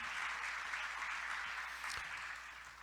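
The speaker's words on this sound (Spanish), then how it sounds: "damos un aplauso de gloria a Dios de bienvenida a todos ellos" Faint crowd applause from a church congregation welcoming people during a service, a steady wash of clapping that continues for a few seconds without speech.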